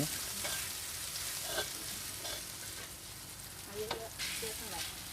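Minced pork stir-frying for Thai basil pork at a busy street-food stall. It sizzles steadily, with a spatula scraping and stirring in short strokes, close up and loud, and no talk over it.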